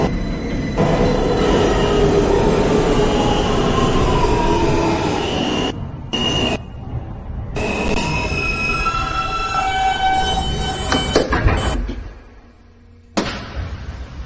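A New York subway N train running on the Broadway Local roars loudly along the track, with wheel squeal and rattling cars. The noise drops into near quiet briefly, then a door chime and clatter follow.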